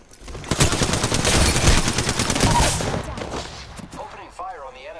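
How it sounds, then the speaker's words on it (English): Sustained automatic gunfire in Apex Legends, a dense rapid stream of loud close shots lasting a few seconds before tapering off, with a voice speaking near the end. "Opening fire on the enemy."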